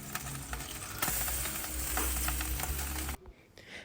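Fish touched up with oil sizzles and crackles steadily at close range while being smoked, a dense frying hiss that cuts off abruptly near the end.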